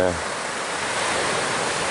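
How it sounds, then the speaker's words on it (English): Ocean waves rolling up onto a shore, a steady broad wash of surf that holds close and even with no break in the roar. "the whiteness of the waves is the brightest thing in this gray world. When they roll up,"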